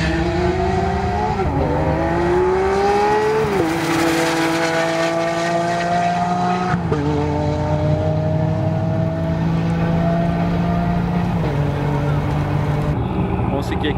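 Modified sports cars on semi-slick tyres lapping a race track, among them a blue Porsche 718 Boxster with a four-cylinder engine: a loud, continuous engine drone that climbs and drops in pitch through gear changes, close by.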